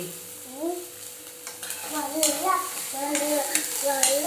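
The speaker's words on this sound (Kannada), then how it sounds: "ಇದು ಬೆಂಡಿಕಾಯಿ ಹುರಿಯೋದಾಯ್ತು" Okra (ladies finger) sizzles in a pan and gets stirred, soft scraping under a quiet fry, while a bird or other tonal chirping sounds repeatedly in the background.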